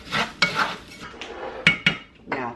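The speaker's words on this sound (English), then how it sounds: "we're just gonna stir fry this just for a minute or 2 until it's nice and" Rice being stir-fried in a pan for Mexican rice, with a utensil scraping and clanking against the metal in irregular bursts, close and fairly loud, with faint sizzling between the strikes.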